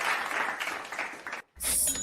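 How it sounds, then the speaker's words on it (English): A burst of hand clapping, fairly loud and close, breaks off into a brief silence before a bright, sharp sound follows. "And I am, yes, Paige, I am going to give you a hand clap"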